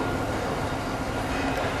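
A 1998 Buick Riviera with a V6 engine idles quietly, giving off a steady, smooth, low hum with no change in level and no talking.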